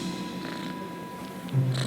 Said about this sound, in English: He's purring in his sleep.